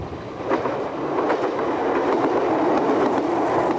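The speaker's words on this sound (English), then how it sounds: "an Exeter-bound unit hurries through" An Exeter-bound train unit hurries through a station on a Devon branch line, a steady, close rumble of wheels on rail with faint rhythmic clatter, loud and without talking.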